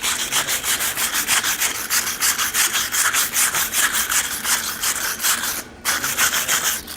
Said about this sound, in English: let's wire brush it and do it at this heat